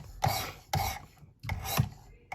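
A knife blade is drawn across the stone of a Work Sharp Precision Adjust sharpening system in four rasping strokes, each a short gritty scrape with small gaps between, close and clear.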